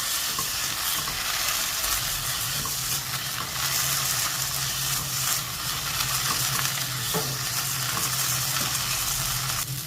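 Continuous sizzle and rattle of green peas being dry-fried and stirred in a hot dry pan, with scraping, close up and steady throughout.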